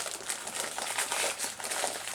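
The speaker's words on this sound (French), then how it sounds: "On va ouvrir le sac à pneus." A plastic bag holding Tamiya kit tyres is opened, with close, steady crinkling and rustling of thin plastic throughout, and no talk over it.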